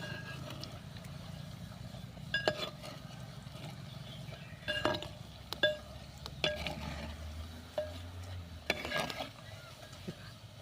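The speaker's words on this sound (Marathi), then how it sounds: "आता आलटी पलटी करून आपण चांगली तळून घेऊया." Bhaji fritters frying in hot oil while being flipped, a low continuous sizzle with scattered clinks and scraping taps of a utensil against the pan.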